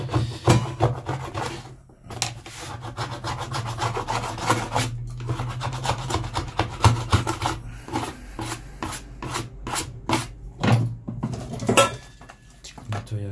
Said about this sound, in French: on peut déjà appliquer un léger ponçage, uniquement en surface